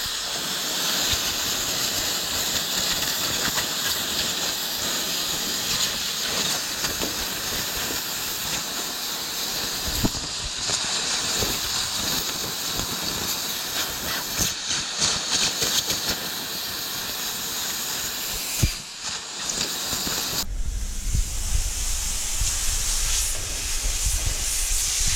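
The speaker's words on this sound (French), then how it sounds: "Alors là, nous allons utiliser une machine à vapeur." A steam cleaning machine hisses loudly and continuously while an apartment is cleaned, with a few brief cutoffs and a sharp knock along the way. A lower rumbling hiss comes in near the end.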